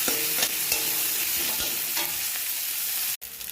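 Onion, garlic and ginger fry lightly with cumin seeds in oil, a loud steady sizzle with repeated stirring scrapes and taps, ending in a brief abrupt gap.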